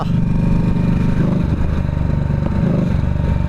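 A 2025 Harley-Davidson Nightster Special engine idling close up, its deep rhythmic lumpy throb loud and continuous throughout.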